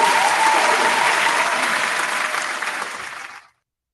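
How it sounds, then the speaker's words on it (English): A crowd's round of applause for a guest on a mixshow, full and steady at first, then thinning and fading before cutting off abruptly. "Round of applause for Mo Mackey, Oplex."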